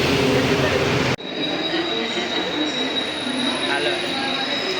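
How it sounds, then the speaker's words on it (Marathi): Loud roaring train noise cuts off abruptly, giving way to a quieter platform hum with a thin high-pitched whine from the stationary local train. "आलो आम्ही आता ट्रेन प्लॅटफॉर्मवर. ये आहे लोकल"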